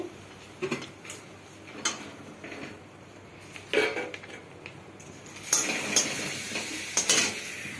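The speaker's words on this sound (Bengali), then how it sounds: "সেই জন্য ওর জন্য একটু পাঁপড় ভাজি করে নিচ্ছি।" Papad frying in oil that has become too hot in a home kitchen, with intermittent crackling bursts and light clinks of a utensil against the pan, growing busier toward the end.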